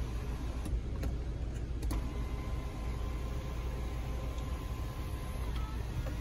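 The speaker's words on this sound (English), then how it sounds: "I'm gonna also show you the sunroof. I'm gonna open that up." The sunroof of a 2013 BMW 528i slides open, producing a faint, steady electric motor hum over the quiet background noise inside the car, with a few small clicks and no speech.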